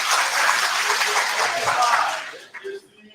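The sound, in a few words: crowd applause at political rally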